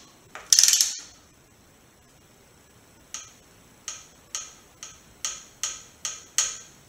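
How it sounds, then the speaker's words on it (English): Torque wrench tightening oil pan bolts on a Mazdaspeed MX-5, one loud ratcheting burst followed by a steady series of about eight sharp, evenly spaced metallic clicks close by, alone without talk. "I think I'll torque this first."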